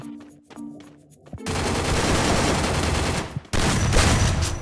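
Gunfire in the video game Free Fire: a few isolated shots, then a sustained loud burst of automatic fire. It breaks off for a moment and resumes with another volley, with no talk.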